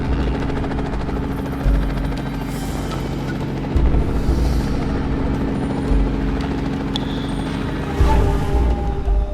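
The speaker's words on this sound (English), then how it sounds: "They set them in the dust as the helicopter rose." A helicopter droning steadily and close by, its rotor and turbine forming a continuous loud hum with slight surges in intensity, the craft climbing away over dusty ground.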